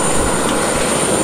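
A loud, steady airplane engine drone fills the space, constant and close, with a high whine riding over the roar.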